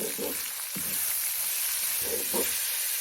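Chopped onions sizzle and hiss steadily in a hot pan, with a few soft scraping stirs breaking through the frying noise; close and fairly loud, no talking.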